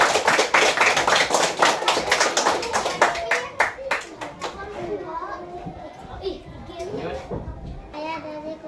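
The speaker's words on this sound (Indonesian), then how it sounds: "tepuk tangan" Children clap their hands in a classroom after a group presentation, with a burst of quick, close claps over the first few seconds that fade into kids' chatter and talking.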